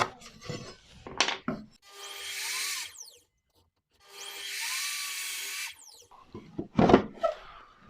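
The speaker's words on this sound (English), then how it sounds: "make that cut over at the miter saw" A miter saw cuts through copper pipe in two sustained bursts, each spinning up, running steadily for about a second and a half, then winding down, with a pause between them and some handling clatter before and after.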